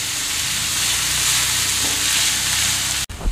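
Chopped onions fry with a pinch of salt in a pan for dhaba-style Amritsari paneer bhurji, a loud close sizzle with stirring scrapes throughout, ending in a sudden cut and a soft thump.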